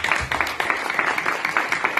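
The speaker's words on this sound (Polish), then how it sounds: "Gorące brawa." Applause from an audience greeting a third-place winner at a county religious song contest, a steady crackle of many hands clapping throughout.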